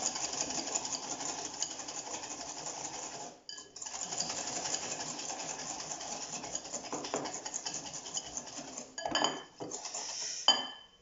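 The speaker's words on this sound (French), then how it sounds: "On mélange le tout." A tart filling of flavoured cream with vanilla and rum is mixed in a bowl, giving a continuous close scraping and clinking of utensil against the bowl with a brief pause and a few louder knocks near the end.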